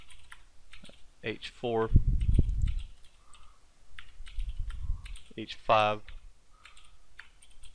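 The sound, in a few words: typing on a computer keyboard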